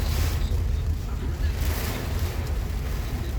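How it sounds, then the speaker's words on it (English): Hurricane Ian's wind gusts in Ruskin, Florida roar as a steady, loud rushing blast buffeting the microphone, with deep low rumble throughout and no break. "Getting little wind blasts."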